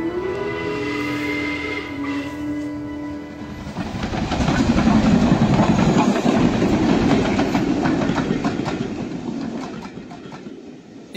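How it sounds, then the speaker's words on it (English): A train rumbles past on the rails, a low rolling roar swelling loud in the middle with rhythmic clatter, after a tonal horn-like hum at the start. "It must have been quite a sight when the first trains came rumbling through"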